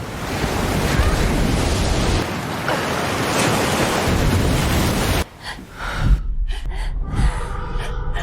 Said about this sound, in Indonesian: tertutup suara deburan ombak